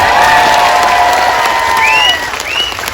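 Crowd clapping at an Islamic religious gathering in a park in Taichung, Taiwan, loud and close, mixed with cheering and high whistle-like shouts, easing slightly toward the end.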